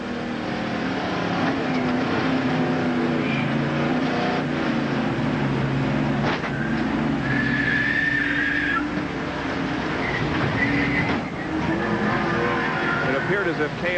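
In-car camera sound from Cale Yarborough's stock car at the 1987 Winston 500, a loud steady engine roar with a sharp impact around the middle as the car is hit from behind, then further knocks, under commentators' voices.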